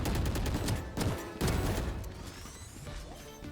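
Gunfire in the Valorant video game, a Bulldog rifle against a pistol: rapid bursts of sharp shots followed by a couple of louder single cracks, then fading game ambience.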